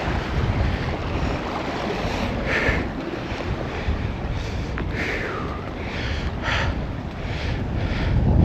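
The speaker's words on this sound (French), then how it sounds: "Excusez-moi pour le vent" Strong wind buffets the microphone beside a mountain lake in Ariège with a continuous low rumble, gusting louder at times, with faint water and outdoor sounds underneath.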